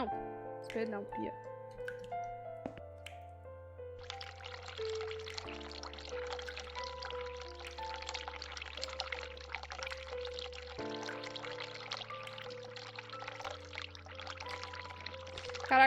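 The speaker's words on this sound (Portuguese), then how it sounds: "Eu liguei a torneira, só que eu não esperei 5 segundos." Tap water runs into a sink in The Cat Lady video game, a continuous splashing stream lasting several seconds over low game music with deep drones and sustained tones.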